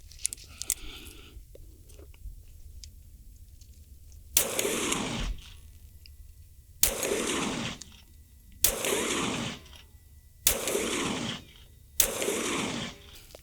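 Five sharp, loud H&K P7 PSP pistol shots fired outdoors at about 10 yards, spaced roughly two seconds apart, each followed by a brief echoing decay, with some faint handling noise beforehand.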